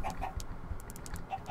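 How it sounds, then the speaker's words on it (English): Chickens cluck and squawk in short bursts over a low background rumble, several birds close by. "there's so many chickens."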